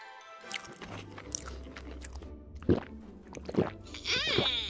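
Someone chews and bites into pizza in several wet, crunchy mouthfuls, close and fairly loud, with a short high squeak near the end.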